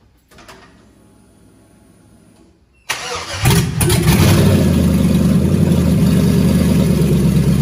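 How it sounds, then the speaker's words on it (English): An LS-swapped Chevrolet C10 truck sits with a faint hum before its engine cranks briefly, fires and settles into a loud, rumbling idle close by. "I'll prime it about one more time just to fill the fuel system, and it should fire off."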